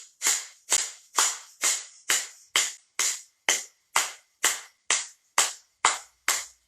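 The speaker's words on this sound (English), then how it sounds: "I'm just clapping to keep time with you" Single person clapping hands in a steady, evenly spaced rhythm to keep time during yoga breath-of-fire breathing, about fourteen sharp, close claps with nothing else heard.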